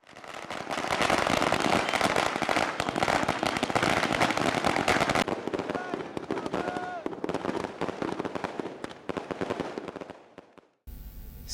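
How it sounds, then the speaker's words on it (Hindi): Fireworks and firecrackers go off at a street celebration at a crossroads, a dense, rapid crackling barrage of pops and bangs that later thins into scattered bursts, with voices mixed in. "मित्र मंडल ने दो बत्ती पर आतिशबाजी की।"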